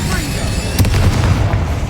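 A fiery Incendio spell goes off in Hogwarts Legacy inside a tomb, a dense whooshing burst with a low booming swell around the middle, backed by steady game ambience.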